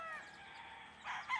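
A rooster crowing faintly, one drawn-out call heard at a moderate distance, with a brief rise in loudness near the end.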